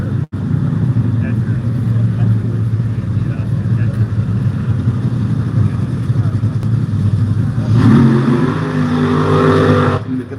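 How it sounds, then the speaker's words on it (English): A Top Fuel dragster engine at the drag strip starting line holds a loud, steady, deep roar. A voice talks over it, and the pitch shifts near the end. "we have 2 pairs of Top Fuel dragsters left up here at the starting line"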